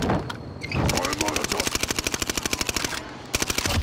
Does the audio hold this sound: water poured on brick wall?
no